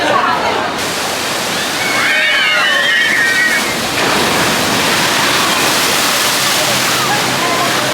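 Rushing, splashing water fills the whole stretch as the Fuga da Atlantis water ride at Gardaland plunges and sprays, a loud continuous wash with a few high squeals or shrieks riding over it early on.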